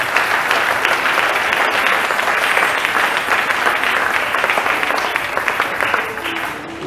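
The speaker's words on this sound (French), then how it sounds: "Acclamons le Seigneur pour notre présence." A church congregation applauds during a Christmas worship service, a steady, dense wash of clapping hands that fills the room and holds at full strength for about seven seconds before easing slightly at the end.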